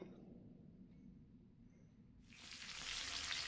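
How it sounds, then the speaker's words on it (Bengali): Fish pieces frying lightly on one side in a pan for Bengali doi ilish (hilsa in mustard-yogurt sauce); a low, soft hiss swells into loud, steady close sizzling partway through, with no talk. "মাছটা কিন্তু ভেজে নিচ্ছি এক পিঠ হালকা করে"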